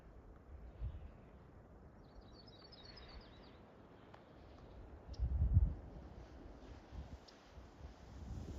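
Small birds chirp faintly on Mount Mansfield in Stowe, Vermont, at the end of the ski season, with a brief high twittering phrase partly masked by steady wind rumble and gusty microphone noise.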